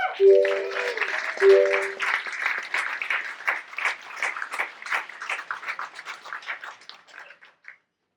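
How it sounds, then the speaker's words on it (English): A convention audience applauds in a dense, lively burst of clapping that fades out over several seconds, with a short electronic chime near the start. "Chris, if you would give Chris Thompson a round of applause, please."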